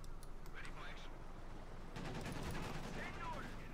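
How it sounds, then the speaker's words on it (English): Automatic rifle fire from a Browning automatic rifle (BAR) in a Company of Heroes 2 match, heard as dense bursts of gunfire that thicken in the second half amid a wider battle din, with a voice speaking over it. "A Browning automatic rifle, which was actually a World War I era weapon."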